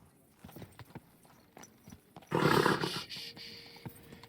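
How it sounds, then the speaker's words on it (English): Horse hooves clip-clop in Kingdom Come: Deliverance 2, an irregular string of sharp steps followed by a louder burst of galloping and rustle that settles back to scattered hoofbeats, with no talk over it. "Easy, good horse."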